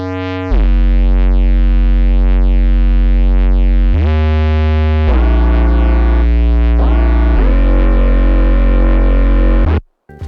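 Thick sustained synth chords stacked over a heavy distorted bass in a remix, shifting through several held chord changes before cutting off abruptly near the end.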